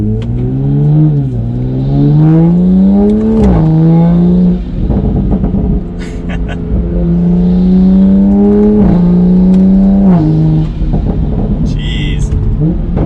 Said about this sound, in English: That A90 Garage straight pipe is insane, and the road is closed, so I gotta do a U-turn. But wow, we'll do a little bit of an acceleration.